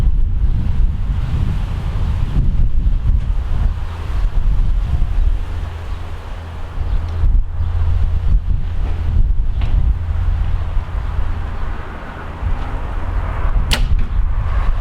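Wind blowing steadily across an outdoor archery range, a continuous low rumbling buffet against the microphone with gusts rising and falling throughout, and a brief sharp sound near the end.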